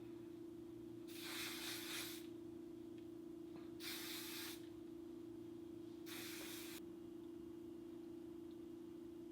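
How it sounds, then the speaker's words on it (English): Hairspray mists onto styled hair in three separate short hissing sprays, soft and fairly faint, over a steady low hum. "let me get some hairspray"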